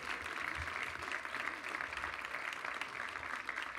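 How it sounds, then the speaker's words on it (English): Audience applause for panel speakers at a Washington Ideas forum, steady dense clapping filling the whole clip at moderate distance, with no clear voices over it. "Ladies and gentlemen, please give Karl Rove, Stan Greenberg, and Ron Brownstein a real round of applause."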